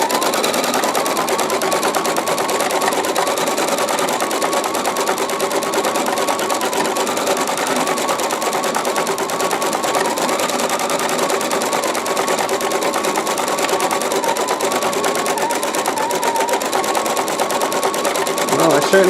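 An embroidery sewing machine stitching fine thread at full speed, a fast continuous mechanical whir and rattle, close and steady throughout.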